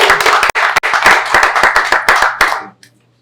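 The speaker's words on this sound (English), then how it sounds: "Another round of applause." Audience applause at an affordable housing announcement in Toronto, a brisk burst of close, dense hand clapping that tapers off and stops after about three seconds.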